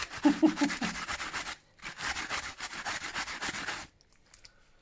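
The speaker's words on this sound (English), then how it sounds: "Just grate a bit of that in." A pear being grated on a hand grater, with two bursts of rapid rhythmic rasping strokes separated by a brief pause, close and fairly loud, then trailing off into quiet.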